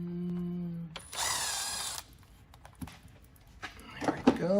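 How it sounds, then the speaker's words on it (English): Power tool spinning out bolts from a Ford Ranger automatic transmission pan (4R44E/5R44E family), one loud whirring burst about a second long, then scattered clicks and metallic handling, close by. "And we're gonna pull the remaining bolts out."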